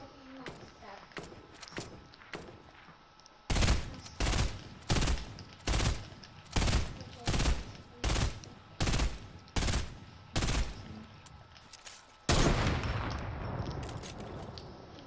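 Gunfire in the video game Fortnite: about ten loud, evenly spaced shots ring out one after another, then a longer sustained burst, with faint game sounds between them.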